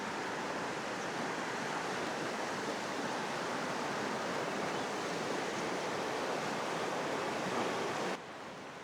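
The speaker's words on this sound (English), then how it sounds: "A little noisy though. This is the Boulder River." The Boulder River rushes steadily nearby, a loud, constant broadband wash of flowing water that drops suddenly near the end, with no voices over it.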